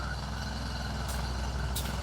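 Trucks and machinery from nearby roadwork make a steady, distant low rumble outdoors, broken by two brief hissing bursts, with no one talking.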